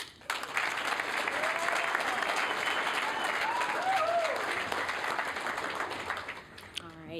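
A crowd at a student television awards ceremony claps and cheers in a long, full round of applause, with a few whoops rising through the clapping before it tapers off near the end.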